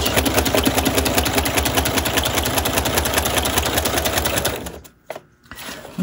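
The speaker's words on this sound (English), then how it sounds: "what I'm going to do is turn it around and chain stitch." A sewing machine chain stitching through paper envelopes, a rapid, steady mechanical whir and needle clatter running close for several seconds before stopping abruptly into near silence.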